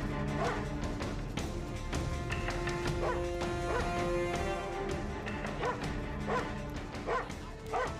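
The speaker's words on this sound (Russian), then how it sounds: "Пускайте собак." Several dogs bark and yelp during a tense chase scene in a 2008 Russian-Belarusian war film set in the summer of 1941. Repeated loud barks come in irregular bursts over busy background noise and mix with some commotion.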